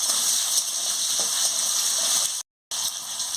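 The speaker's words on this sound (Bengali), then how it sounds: "নুনটা দিয়ে দিচ্ছি, দিয়ে ভালো করে ভেজে নিচ্ছি।" Vegetables frying in a pan with salt added, a steady close sizzle with soft stirring scrapes for most of the clip, briefly cut to silence near the end before resuming.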